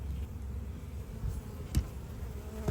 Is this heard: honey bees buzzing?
yes